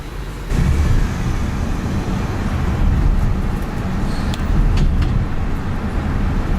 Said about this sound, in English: This is just normal driving in San Francisco.